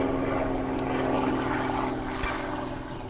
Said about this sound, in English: what kind of helicopter is that, Wade?